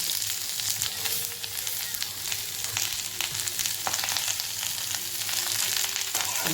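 Steady sizzling of onions frying in hot oil, continuous and close, with occasional crackles and faint stirring clicks.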